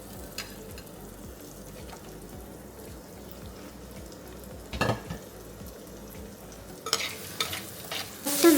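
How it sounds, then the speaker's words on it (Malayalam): Ginger and garlic fry in a pan while a utensil stirs them in regular scraping strokes over a soft sizzle, with a few louder clatters toward the end and no voices. "ആദ്യം ഇഞ്ചി വെളുത്തുള്ളി ഇട്ട് കൊടുക്കാം കേട്ടോ"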